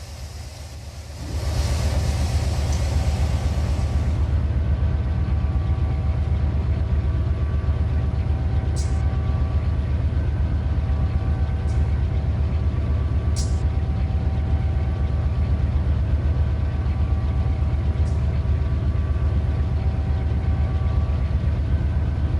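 Heavy diesel locomotives in the Run 8 train simulator push a long freight train on the Mojave Sub, a steady loud low rumble of engines in high notch with occasional brief hissing bursts, no voices.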